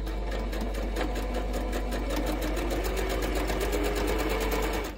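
A sewing machine chain-stitches quilt block fabric in one unbroken burst of fast, even needle chatter over a low motor hum, close and loud, with no talk.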